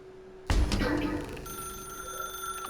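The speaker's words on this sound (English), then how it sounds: "Now pick up the phone," A telephone bell rings in the video game The Stanley Parable, bursting in suddenly after a quiet moment and continuing as a loud, steady ring that fills the rest of the moment.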